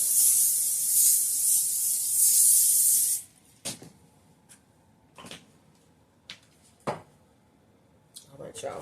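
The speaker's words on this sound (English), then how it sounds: "you want to make sure you spray your pan" A steady hiss of cooking spray onto a pan for about three seconds, followed by quieter scattered taps and clicks.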